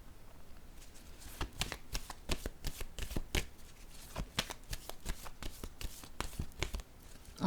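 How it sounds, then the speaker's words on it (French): Tarot cards handled on a table, a quick series of crisp papery card snaps and riffles, close and fairly loud, with no talking. "Je vais déposer une autre carte ici."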